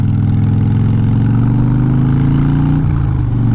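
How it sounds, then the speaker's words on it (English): Heavy cement mixers and sand and gravel trucks roll through a loud neighborhood, making a continuous low engine rumble that drones steadily and close, with a slight shift in pitch near the end and no voices. "around here there's so many cement mixers and sand and gravel trucks and, you know, emergency vehicles"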